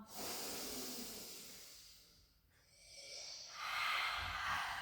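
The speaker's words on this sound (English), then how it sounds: "Someone's not on mute because I can hear you breathing." Audible breathing comes through an unmuted call during a rehab pilates session, with long, hissing inhales and exhales at close range, one slow breath dipping into a brief quiet pause before rising again, with no talking.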